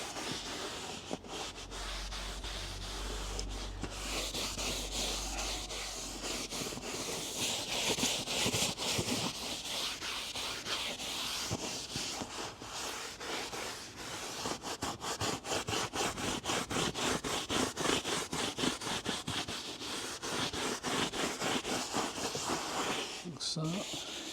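A camper seat is scrubbed with the rough side of a scrub pad after spraying cleaner, making continuous close rubbing and scratching strokes that run throughout, with a voice talking over parts of it.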